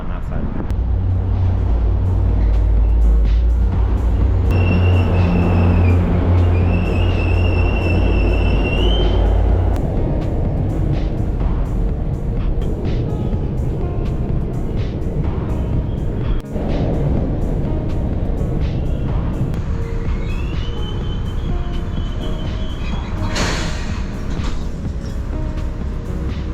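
MBTA subway trains rumble through a station, with heavy low roar, rattling wheels and squealing brake tones, continuous and loud for the whole stretch.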